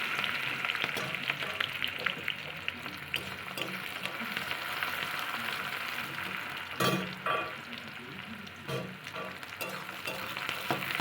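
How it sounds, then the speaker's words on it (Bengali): Dried red chillies, two bay leaves and onion fry in hot oil as a tempering for vegetarian taro leaf greens. A steady, dense sizzle fills the clip, broken by occasional stirring scrapes, with no talking. "শুকনো লঙ্কা দুটো তেজপাতা ফোড়নে দিয়ে দিলাম"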